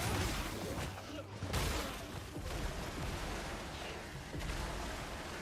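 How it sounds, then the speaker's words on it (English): Massive explosions rumble behind the player in the video game Mortal Shell 2, a dense, continuous barrage of booms and blasts at high level with no talk over it. "Did you hear like the mass explosions behind you?"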